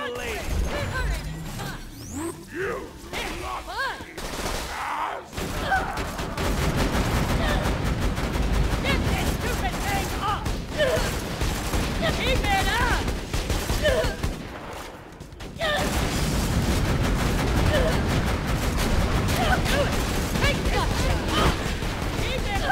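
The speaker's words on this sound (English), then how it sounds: "Assault rifle of mine wasn't doing much against him." Assault rifle gunfire in Borderlands 2 on True Vault Hunter Mode, sustained bursts of rapid shots packed with impacts and crashes, loud and near, with game voices speaking over parts of it.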